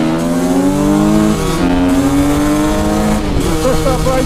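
Two Husqvarna enduro bikes, an FE250 four-stroke and a TE250 two-stroke, rev hard as they accelerate side by side in a drag race. The engines are loud and close, the pitch climbs and drops with each gear change, and a rider's voice cuts through at times.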